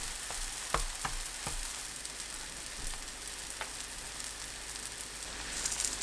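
Oil sizzles steadily as a burdock buckwheat pancake fries in a pan over medium-low heat, with a soft, continuous crackle and a few sharper pops, close by, with no voices.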